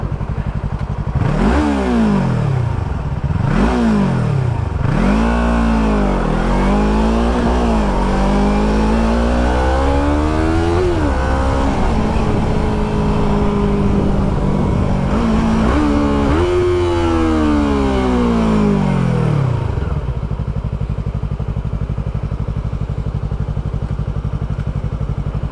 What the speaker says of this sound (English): My motorcycle's overheating.